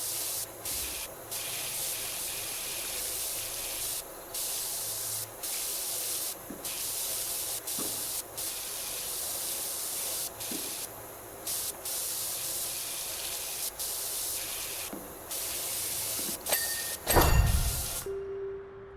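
A pressure washer in PowerWash Simulator 2 sprays in a continuous loud hiss, broken by short pauses as the jet stops and restarts, ending with a brief louder burst.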